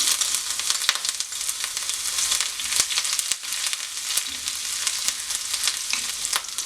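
Steady, bright sizzling of ginger frying in hot oil, continuous and close, with occasional sharp crackles and pops throughout.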